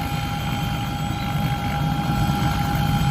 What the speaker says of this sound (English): Maybe it's one of them helicopters that supports the drilling rigs.